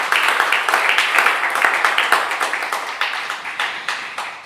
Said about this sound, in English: How about one more round of applause for Michael Jones there